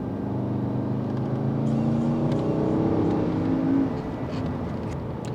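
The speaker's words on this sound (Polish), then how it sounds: "Kusi mnie teraz, mamy taki prosty kawałek drogi, żeby sprawdzić przyspieszenie te 520 koni mechanicznych mocy" A Porsche Cayenne Turbo running on LPG, 4.8-litre and 520 hp, accelerates along a straight road, heard from inside as a rising engine drone that climbs through the revs, peaks, then eases back.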